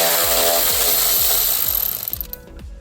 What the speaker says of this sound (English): So I'm gonna take the bolts out holding the radiator here,